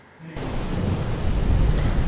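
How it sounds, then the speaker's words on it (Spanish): Steady heavy rain begins abruptly and then pours continuously as a dense, close hiss. A deep rumble like thunder runs underneath throughout, and there are no voices. "sonidos de la naturaleza como la lluvia"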